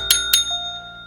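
A bicycle-style bell on a board game table is rung twice in quick succession, two bright close metallic dings with a lingering ringing tone afterward, alone without talk.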